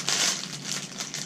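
A plastic bag holding Starbucks holiday peppermint bark crinkles and rustles up close, a brief continuous crackle handled with no one speaking.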